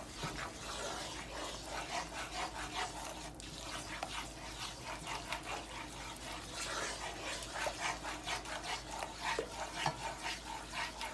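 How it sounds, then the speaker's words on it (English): Flour being stirred and parched in ghee in a pan for Guyanese parsad, a steady scraping and sizzling texture with repeated soft strokes, close and fairly quiet throughout. "I'm just gonna go ahead and start the parching process of the flour with the ghee."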